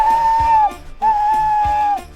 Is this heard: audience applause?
no